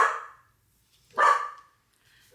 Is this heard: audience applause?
no